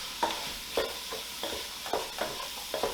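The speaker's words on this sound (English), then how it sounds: "Give it a nice turn here, give it a nice stir." Seasonings are stirred into a pot of red beans, with rhythmic spoon scrapes and soft knocks repeating every half second over a low simmering sizzle.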